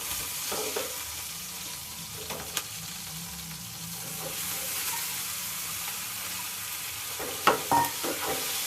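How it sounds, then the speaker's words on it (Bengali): Green and dried chillies fry in a pan with oil, giving a soft continuous sizzle and hiss close up, broken by a few clicks and scrapes of stirring. "তো কাঁচামরিচটা শুকনো মরিচটাও হালকা হালকা ভাজা হয়ে গেল।"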